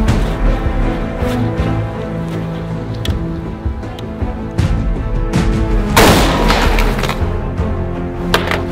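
A sharp, loud gunshot bang fired at bulletproof glass rings out with a bright crack and lingering echo, amid scattered clanks and impacts in an outdoor setting.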